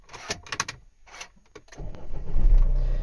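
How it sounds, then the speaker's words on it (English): Key clicks and rattles, then a 2008 Mini's engine cranks and catches, settling into a steady, loud rumbling idle close by. "I'm going to start the vehicle"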